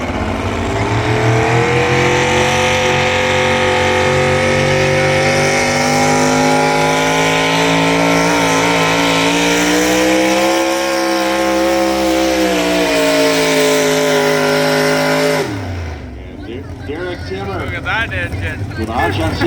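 A naturally aspirated 650 cubic inch Grand National pulling tractor engine roars loud and close, holding a sustained high-revving snarl whose pitch dips and climbs. After about fifteen seconds it cuts off abruptly, leaving crowd noise.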